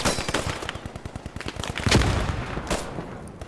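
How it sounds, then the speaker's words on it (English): Rapid bursts of machine gun fire in the shooter Post Scriptum, sharp repeated cracks close by with a few heavier shots mixed in. "Machine gun left."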